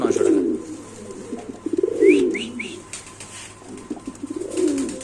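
Pigeons of a Netherlands bloodline at a large pigeon farm give repeated low, throaty coos in several rolling bursts, with a few short chirps in between, close and fairly clear.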